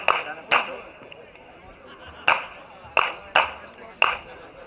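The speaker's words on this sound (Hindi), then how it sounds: "बहुत सारी तालियां होनी चाहिए।" A handful of sharp, separate hand claps ring out for a winner at a handgun championship award ceremony, spaced irregularly over low background chatter.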